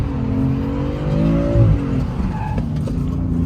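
A BMW M3 (F80/G80) revs hard while drifting on a circuit. The engine drone sits loud and close, rising and falling as the throttle is worked, with faint tire scrubbing underneath.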